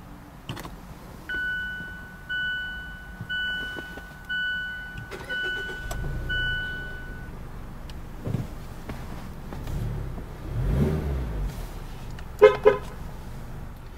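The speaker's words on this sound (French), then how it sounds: "Pour démarrer le véhicule, il suffit d'appuyer sur ce bouton" A 2015 Mazda6 GT is started with its push button: faint clicks and a chime tone, then a brief engine crank and catch settling into a soft idle, with a couple of sharp tone blips near the end.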